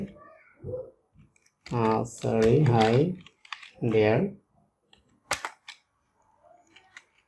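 A computer keyboard being typed on, with a few sharp, sparse key clicks near the end after a stretch of someone talking.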